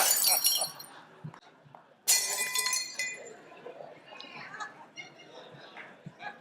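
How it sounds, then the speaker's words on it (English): Glass crashes and shatters in a loud burst at the start, then a second sharp crash follows, with tinkling shards settling afterward amid faint crowd murmur in a police department lobby ceremony. "that sound that you just heard is the glass ceiling crashing down in the lobby of the Springfield Police Department."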